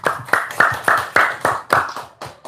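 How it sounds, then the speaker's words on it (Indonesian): About eight distinct hand claps in an uneven rhythm, close and fairly loud, each one fading quickly, with no talking. "Tepuk tangan dulu dong."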